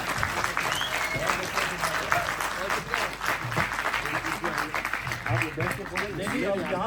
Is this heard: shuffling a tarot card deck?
no